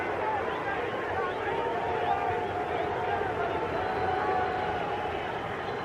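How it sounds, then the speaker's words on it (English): Boxing crowd inside Hampton Coliseum at a Pernell Whitaker versus Greg Haugen fight, a steady roar of massed voices that may carry a 'Pete' chant, with a commentator talking over it throughout. "The crowd here at Hampton Coliseum starting to chant, Pete, Pete, Pete"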